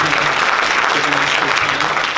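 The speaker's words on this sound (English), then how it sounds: "Can we get a round of applause for having two chairmen here" Audience applause at a political speaking event in Amarillo, Texas: steady, dense clapping fills the whole stretch at close range, with faint voices and cheering mixed underneath.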